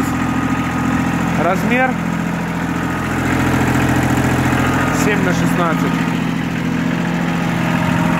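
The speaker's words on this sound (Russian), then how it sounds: "Трактор агрегатирован трехцилиндровым дизельным двигателем." A three-cylinder diesel engine on a Kubota L2402 tractor idles with a steady low rumble throughout, while someone talks briefly over it.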